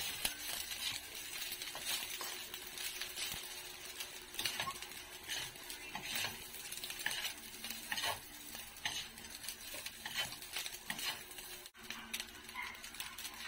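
Fried rice being stirred in a frying pan for breakfast, a steady soft sizzle under repeated scraping and clinking of a utensil against the pan, close and continuous, with no talking.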